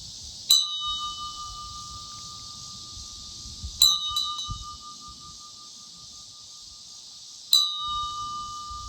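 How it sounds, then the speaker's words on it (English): A bell at the eastern terminus of the Katy Trail State Park in Clinton rings three times, each clear metallic strike evenly spaced and ringing out before fading, over a low outdoor rumble. "We rang the bell at Clinton"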